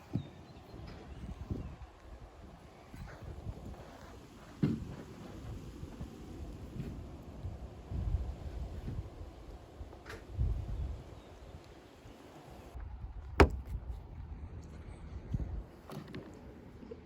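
Strong wind gusting outdoors while a windshield crack is being repaired, a steady low roar with irregular louder gusts and buffeting throughout.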